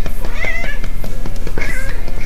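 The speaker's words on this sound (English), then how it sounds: "If I pat her belly, she meows." A cat meows as her belly is patted, giving a run of close, clear, repeated meows with short pauses between them.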